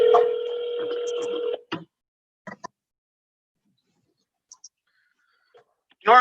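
A telephone ringing out on an unanswered outgoing call to Grand Rapids, Michigan: one long ring tone up front, then silence broken by a few faint clicks.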